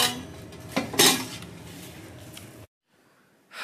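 A pot of semai gets a lid set on it, with a few metal clinks and clatters of utensils against cookware, followed by a brief silence and then renewed kitchen noise.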